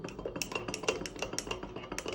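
A spoon stirs tea in a glass at a family breakfast table, giving a quick, steady run of light clinks and scrapes against the glass, close and fairly faint, with dishes faintly in the background.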